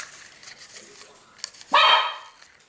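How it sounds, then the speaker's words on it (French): A dog named Dusty lets out a single loud, sharp bark close by after quiet rustling and faint talk. "Le chien Dusty."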